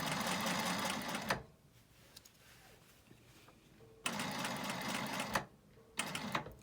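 A sewing machine stitches diamond chevron pieces for a quilt center block in two close, steady whirring runs, each stopping abruptly. A quiet pause separates them, and a short third burst follows.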